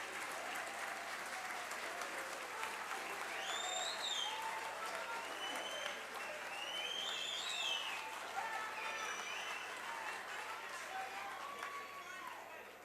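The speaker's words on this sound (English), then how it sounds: "I never get this type of applause" Sustained applause fills a National Assembly plenary chamber in parliament, a broad even clatter of many hands lasting several seconds, with a few faint voices and whistles rising over it.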